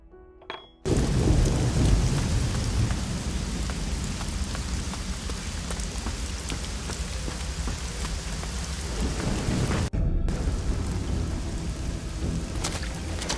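Heavy rain pours steadily through a thunderstorm in the video game Risen 2: Dark Waters, with deep rolling thunder underneath, continuous and loud after a quiet opening, with a brief dropout near the end.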